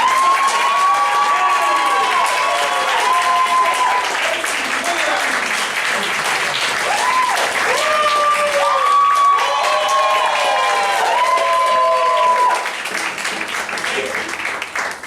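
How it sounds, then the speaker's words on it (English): A comedy show audience gives a loud, sustained round of applause with cheering and whoops, a dense crowd sound that tapers slightly near the end. "come on, give me a great standing ovation."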